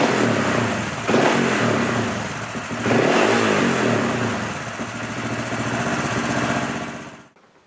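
AJP PR7 motorcycle engine running at about 1800 rpm, a loud, close, steady mechanical drone with slight swells, cutting off at the end.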